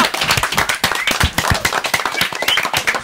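A studio audience on a French TV entertainment show claps as guests take their seats: close, lively, uneven hand claps with sharp individual smacks standing out from the crowd.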